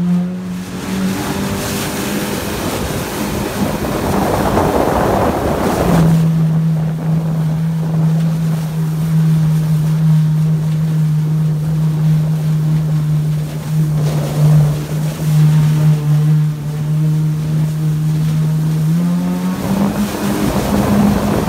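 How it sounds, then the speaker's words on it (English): Kawasaki Ultra LX jet ski running on open water, its steady engine drone holding close and loud for the whole stretch, pitch dipping slightly midway and rising again near the end, with wind buffeting the microphone. "Jet ski was running"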